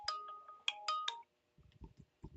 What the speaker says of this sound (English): Just got a phone call